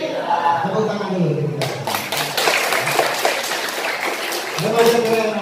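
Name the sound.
audience applause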